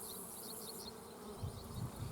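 Bees buzzing around beehives, a soft steady drone of many insects at a moderate distance with a few closer passes swelling briefly, no speech.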